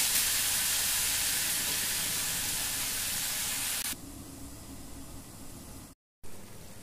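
Pumpkin curry with tomato simmering in a covered pan over low heat: a soft, steady sizzling hiss for several seconds, then a quieter, duller bubbling after a sudden drop in level.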